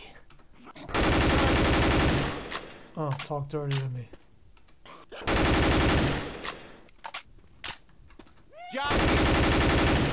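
Rapid automatic fire from an M4A4 Asiimov rifle in a video game, three loud sustained bursts separated by pauses with someone talking between them and brief metallic clicks.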